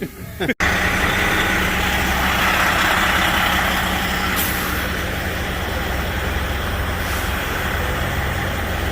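Semi truck being brought out of a repair shop, a loud steady diesel engine rumble running continuously after a brief sharp knock at the start, with a faint hiss partway through.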